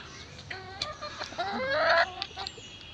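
A large black hen clucks several times nearby, rising into a louder drawn-out squawk, in a quiet setting.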